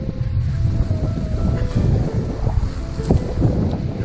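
Strong wind blowing a consistent 20 to 25 knots roars steadily across a sailboat, gusting with a low rumble and rushing water beneath it. No voices.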